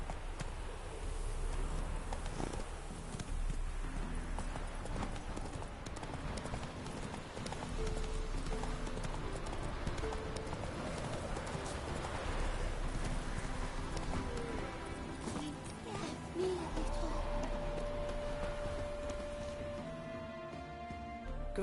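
Roach, a horse in a fantasy video game, trots with a steady clip-clop of hooves over a continuous bed of game music and ambience, briefly thinning out near the end.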